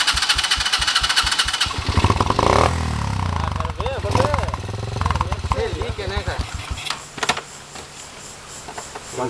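A weak-sounding trail motorcycle engine revs and labours through repeated throttle bursts on a climb, staying close and loud throughout while someone talks over it.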